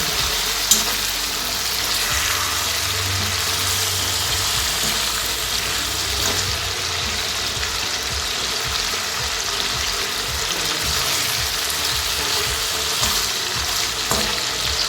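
Chicken pieces frying in a pan as hotel-style gravy chicken is cooked, giving a steady, loud sizzle that runs continuously with no talking over it.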